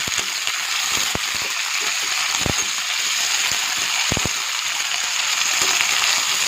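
Cauliflower and potato pieces are added to onions already frying in oil, giving a continuous close sizzle with a few sharp knocks of utensils against the pan, and no speech.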